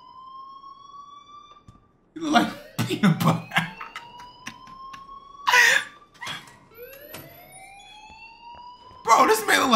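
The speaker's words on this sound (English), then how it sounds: "please turn off that alarm" A fire alarm rings in the Life is Strange video game, a steady electronic tone with rising beeping sweeps repeating throughout, partly masked by someone talking over it in bursts.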